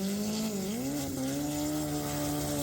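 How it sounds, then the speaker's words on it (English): Mitsubishi 4G63 engine fitted longitudinally in a dragster, a loud steady engine drone with strong harmonics that dips briefly then holds a constant pitch close by. "that sounds like a Mitsubishi engine, but it sounds like they put it longitudinal instead of transverse"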